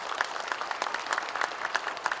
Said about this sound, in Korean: 우리 박수로 축하해 주시기 바랍니다